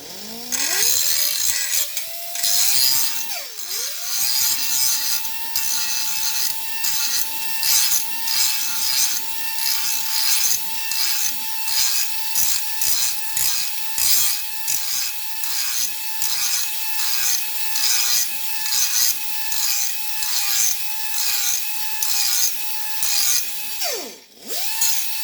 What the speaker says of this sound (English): And then I just take a file and I just file it a little bit more